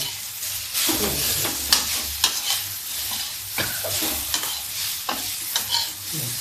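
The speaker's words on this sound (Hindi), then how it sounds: "चाट मसाला डाल दिया और अब इसको हम फ्राई करते हैं।" Sliced bitter gourd (karela), seasoned with turmeric and chaat masala, sizzles in a pan as a utensil stirs it in repeated scraping strokes, close and moderately loud.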